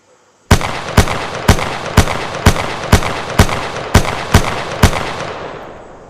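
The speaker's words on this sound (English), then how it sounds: "Now we're going to fire a whole 10 rounds in one magazine." Ten rapid gunshots from a single magazine ring out loud and close at an even, quick rhythm, each sharp crack trailing into a short echo, with a fading tail after the last round.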